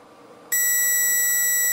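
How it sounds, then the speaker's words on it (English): A multimeter beeps for continuity when probed across ground pins of an Elegoo Mega 2560 R3 Arduino clone: a sudden loud, steady high-pitched tone that starts after a quiet moment and holds unbroken. "So this meter will beep if there's zero resistance"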